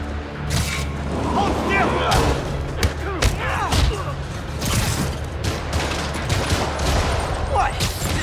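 Rocket fire and explosions in the Spider-Man Remastered game: a rapid barrage of heavy booms and thuds with mechanical clatter, loud and close, while a character shouts briefly over the blasts.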